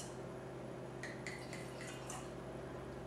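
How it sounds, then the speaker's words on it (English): Wine pours into a glass in short liquid trickles and drips over a steady hum of background noise, with no talking. "let's pour a little and give it a taste"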